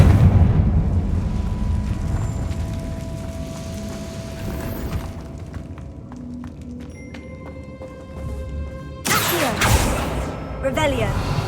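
Explosive Confringo spell blast from Hogwarts Legacy: a sudden loud broadband burst near the end, following a stretch of magical tones and ambient game sounds with a voice talking.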